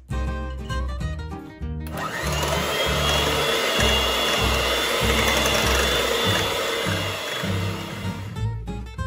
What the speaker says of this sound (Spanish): batir los huevos y el azúcar granulado juntos durante 6 minutos